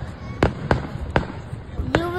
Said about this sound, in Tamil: இதில் ஃபயர் வாக்ஸ் பாருங்க, சூப்பராக இருந்துச்சு